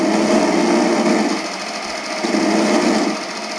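The Death Machine minigun firing in Call of Duty's Mob of the Dead zombies mode, a rapid whirring buzz of continuous fire in two sustained bursts separated by a brief dip.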